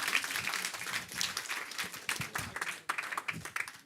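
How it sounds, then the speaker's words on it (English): Audience applause for a speaker at the OpenSIPS Summit 2025 conference in Amsterdam, a moderately faint patter of clapping from a modest crowd that fluctuates and keeps going throughout. "Give this man a round of applause."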